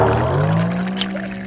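Milk streams from the tap of a milk vending machine in a steady, close pour with a rising pitch as the container fills, with no talk over it.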